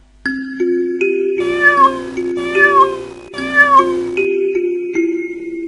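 A cat meows clearly and close up, several distinct calls in a row, some short and some drawn out, against a silent background.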